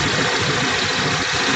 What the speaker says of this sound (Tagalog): Dapat mapaandar natin yung motor kahit walang battery.